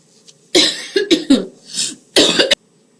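A burst of harsh, close coughs, several in quick succession, then a pause and another short cluster of coughs.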